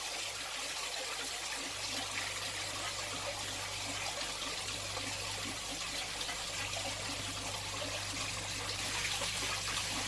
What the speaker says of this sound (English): we've got to get some water out first and put some water in this tank